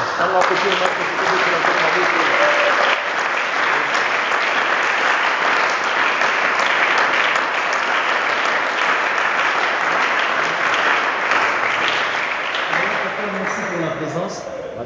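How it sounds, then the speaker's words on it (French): A church congregation breaks into sustained applause and cheering, a dense, loud wash of clapping that holds steady for about fourteen seconds, with a voice rising over it near the end. "est-ce qu'on peut les recevoir avec des acclamations?"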